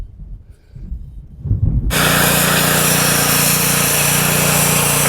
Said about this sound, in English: totally power wash the underside of this deck